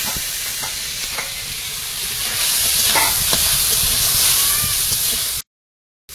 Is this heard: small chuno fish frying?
yes